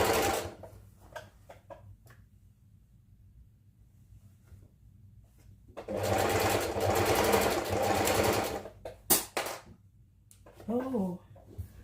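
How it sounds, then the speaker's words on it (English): A sewing machine stitches a straight line in a sustained run of a few seconds, with short mechanical bursts and handling noises before and after, and a voice briefly toward the end. "So I'm going to go ahead and just stitch that up because it did not stitch well."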